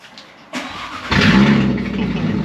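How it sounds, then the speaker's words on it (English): An Audi RS3 fitted with a custom titanium center exhaust cranks and fires up, a short starter whir followed by a loud, rumbling idle that stays steady and strong close by. "this is the first time I'm gonna hear this RS3 with this new custom built exhaust by Kyle here at Reiter Performance."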